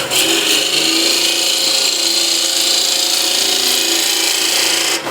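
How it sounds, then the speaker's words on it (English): A hand chisel making a push cut across timber, a continuous bright scraping rasp lasting several seconds at close range, with no talk. "So I can do a push cut, let's say, using my right hand"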